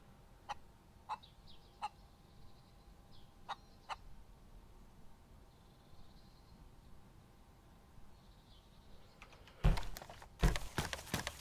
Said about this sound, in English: There's the lone surviving chicken,